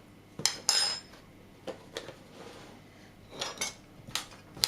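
Clinking, scraping utensil strokes in a bowl as Cornish pasty filling is mixed with salt and black pepper, a few sharp metallic clicks spaced irregularly, close and moderately quiet with no talk.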